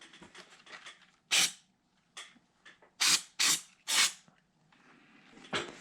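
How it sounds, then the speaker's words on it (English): Brake cleaner sprayed onto parts from a Mojave 250 engine during valve work. Several short, close hissing bursts with pauses, separated by light handling clatter. "I got some brake cleaner here. We're gonna clean out some of these parts here"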